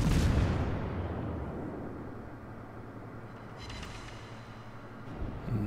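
Incoming shell fire in World of Warships opens with a heavy, booming blast aimed at a Giussano Italian tier-4 cruiser, then leaves a long, rumbling roar that fades slowly, with a faint crackle near the end.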